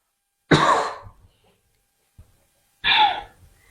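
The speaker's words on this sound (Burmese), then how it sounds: "သူ့လိုမျိုးချောင်းဆိုးတာနှစ်ပတ်တိရှိနေပြီလား" Two harsh, separate coughs about two seconds apart come from a person with a persistent cough lasting about two weeks, with a small throat sound between them in an otherwise quiet room.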